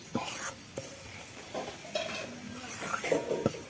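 Flour stirred and fried in a pan makes a few quiet spoon scrapes and soft knocks against the pan, spaced irregularly over a faint background hiss.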